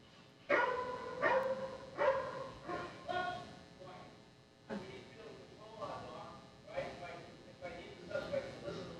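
A police dog barks in sharp, excited bursts during a leashed walk-up fight drill, several barks spread over the stretch, with someone talking between and over them.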